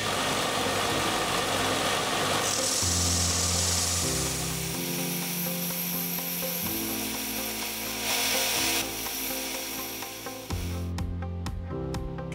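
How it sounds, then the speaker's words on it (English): A scroll saw cuts thin brass sheet and a belt sander shapes it, giving a steady buzzing machine drone whose pitch and tone shift as tools change, ending in a few sharp taps, with no talking. "The scroll saw makes short work of this thin brass sheet, and the belt sander brings it quickly to the line."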